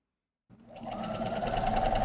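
After a brief silence, a sewing machine starts and hums steadily, close and even, as it sews a quilt seam.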